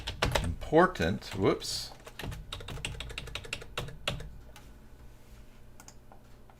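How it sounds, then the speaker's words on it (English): Quick clicking keystrokes on a computer keyboard while editing code, rapid bursts of taps near and clear, with someone talking over the first part before the typing continues alone. "Now watch, if I type in here"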